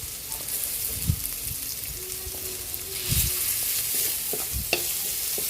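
Onion sizzles in hot oil in a frying pan while a Filipino pininyahang manok (pineapple chicken) is being cooked, with steady crackling frying and a few louder stirring knocks scattered through.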